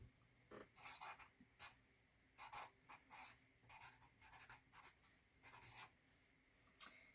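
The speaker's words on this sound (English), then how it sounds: "let me have a Sharpie and a thing to write on. Let me write down my Instagram" Sharpie marker writing on a surface, quiet close-up strokes in short bursts with brief pauses, a steady scratchy squeak of felt tip moving alone without voices.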